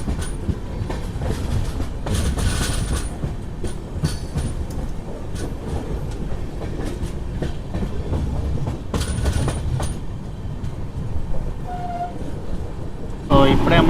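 The Sevan Hills SF Express rolls steadily along the line past Madanapalle in heavy rain, with continuous rumble and wheel clatter all the way through and occasional brief squeals.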